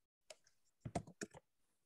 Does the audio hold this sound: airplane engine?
no